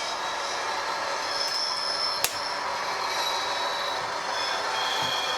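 Bachmann Class 40 OO model diesel locomotive with DCC sound running into Peco insulfrog sidings through a slight S-bend, steady engine hum and wheel noise with a sharp click midway, close up.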